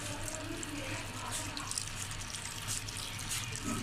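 Water pours steadily into an apple and mint shake in a grinder jar before blending, a continuous splashing, trickling flow at close range with no speech.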